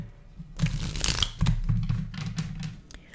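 A deck of tarot cards being shuffled by hand, giving a few short bursts of papery riffling and crinkling that sound close and moderately loud.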